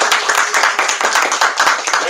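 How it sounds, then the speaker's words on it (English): An audience gives author P. Djèlí Clark a round of applause at a bookstore reading, dense steady clapping filling the room for a couple of seconds. "let's give one more great round of applause for Djèlí Clark."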